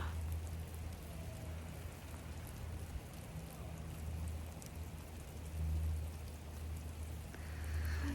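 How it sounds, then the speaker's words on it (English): Heavy pouring rain falls steadily in a forest near Vancouver, a dense even hiss with a low rumbling undertone that stays constant throughout, with no voices. "It is pouring rain right now."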